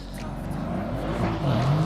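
A 660-horsepower Mercedes-AMG engine roaring from behind, a loud sustained drone with rising revs toward the end, heard close and continuous.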